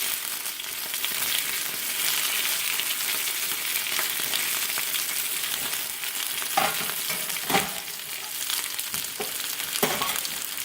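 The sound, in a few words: home fries potatoes frying and being stirred in pan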